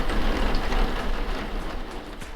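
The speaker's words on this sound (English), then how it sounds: "and now it's raining" Steady rain falling outdoors on a near-freezing day around 37 degrees, a continuous dense hiss of drops on surfaces, close and even throughout with no voices.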